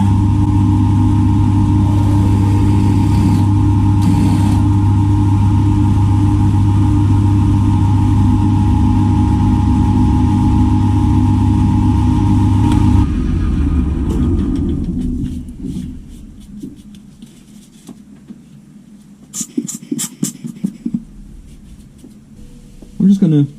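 Machining a 9 mm counterbore in a steam engine part: a loud, steady motor drone runs for about thirteen seconds, then winds down, leaving quieter scattered handling clatter.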